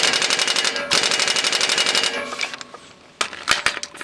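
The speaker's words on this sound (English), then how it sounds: "it's so much easier for me to get an impact wrench on this than on the other side" An impact wrench hammers at a 15 mm self-captured flag nut on a front axle, giving two loud rapid rattling bursts followed by quieter clanks and short taps, with no talking.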